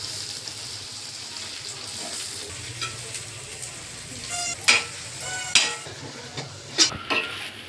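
Stuffed bitter gourd fries over a low flame beside brinjal, a steady close sizzle with a few sharp scrapes and knocks as pieces are turned in the pan.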